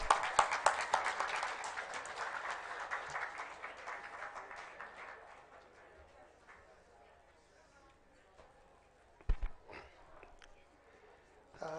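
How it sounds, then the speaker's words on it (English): At a speech competition, an audience breaks into dense applause that starts strong and gradually fades away over several seconds. A few isolated bumps and sounds follow in the quiet hall. "Please welcome him with a big round of applause."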